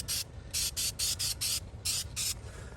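Short bursts of spray paint hiss onto a Chevy Volt, about eight separate squirts in a quick, uneven rhythm with brief silent gaps, close and crisp.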